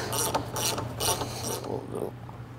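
A ratchet tightens a bolt while a WP 6500 motorcycle fork is serviced, a series of close, crisp rhythmic ratcheting clicks in four quick bursts, fading to a lighter rattle at the end.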